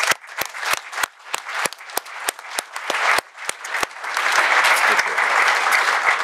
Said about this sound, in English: we would like to applaud you as well.